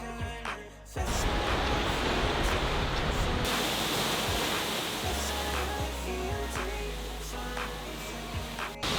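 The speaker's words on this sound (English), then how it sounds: "still the water has not freezed, and we can get a very nice view of this waterfall" A waterfall in Tbilisi, Georgia, on a cold winter day with its water still unfrozen, roars as a steady, loud broadband rush that starts abruptly after a brief quieter moment and continues unbroken, with no one talking.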